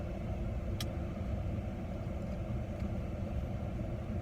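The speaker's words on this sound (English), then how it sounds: "I roll down the window and I hear the roar of bikes" Steady low roar of many motorcycles passing outside an open car window, a continuous dense rumble of engines close by with no talk.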